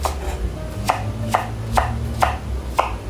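Five crisp knife chops through green onion land on a board at a steady pace, close by, over a faint low background hum.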